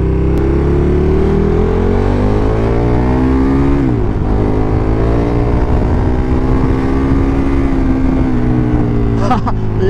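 A KTM Super Duke 1290 motorcycle being ridden, its engine loud and close with a continuous revving drone that rises and falls through gear changes, a brief dip near the middle.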